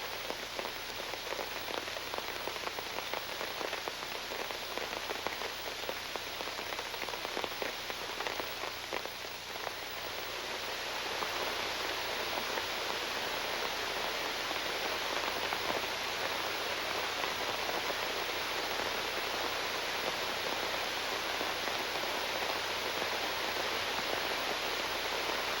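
A rain squall sweeps the Oregon coast, a dense even hiss of rain pattering on surfaces that swells noticeably heavier partway through and then holds steady, fairly faint and without voices.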